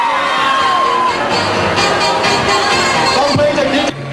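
Festival crowd cheering and whooping at a film festival stage event in Phuket as stars and VIPs appear, a loud, dense, sustained roar of many voices throughout.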